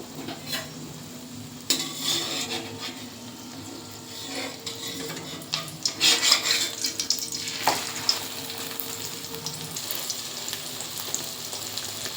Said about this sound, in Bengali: এইভাবে ভেজে নেব। ওপর থেকে পেঁয়াজ টমেটোগুলো দিয়ে দেব।